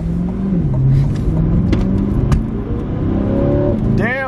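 A Chevrolet Corvette C8 accelerates from inside the cabin, its engine droning loud and rising in pitch with gear changes, with a brief voice near the end.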